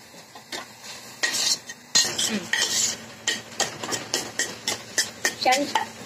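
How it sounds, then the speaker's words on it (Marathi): Tomatoes and green chillies are sautéed in a Healux pan, with rhythmic spatula strokes scraping and clinking at a steady pace close by, under a faint sizzle. "टोमॅटो पण छान परतून घ्यायचं. हिरवी मिरची घालते."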